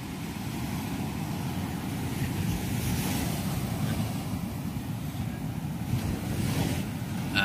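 Steady rumble of sea waves at the shore mixed with gusty wind buffeting the microphone, a continuous low roar without distinct breaks, fairly close and unaccompanied by talk.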